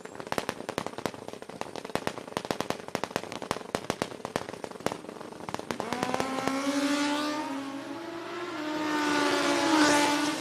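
A turbocharge-assisted Hayabusa motorcycle at a Midwest sportsman drag race, starting with a rapid burst of loud sharp pops and crackles, then a rising engine roar that accelerates down the strip, fades slightly and swells again.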